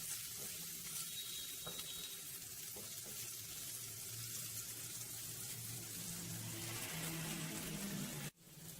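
Prawn masala sizzling steadily in a hot pan on high heat, a continuous close frying hiss with no talk, ending in a brief sharp cut.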